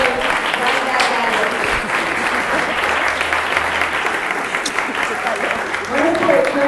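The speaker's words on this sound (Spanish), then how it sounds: "Un aplauso." A bar audience at a science talk on graphene breaks into steady, lively applause that lasts throughout, with people talking over the clapping.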